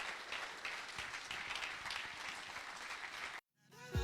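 A church congregation applauding the Lord during worship, dense sustained clapping filling the space for several seconds before cutting off abruptly, followed by a brief swelling tone.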